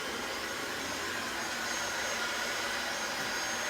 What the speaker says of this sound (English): I have a heat gun. So we're gonna try this out.